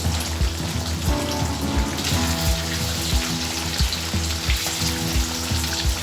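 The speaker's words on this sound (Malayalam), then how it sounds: "കറി നല്ലപോലെ തിളച്ചിട്ടുണ്ട്." Soya chunk curry bubbles and sizzles steadily in a pot, a close, even crackle with soft regular pops, with no voices.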